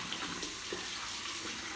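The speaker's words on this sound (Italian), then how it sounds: "Apriamo l'acqua, aspettiamo che si riscaldi" Tap water runs steadily into a bathroom sink while warming up before a traditional wet shave, a soft continuous hiss with no voices.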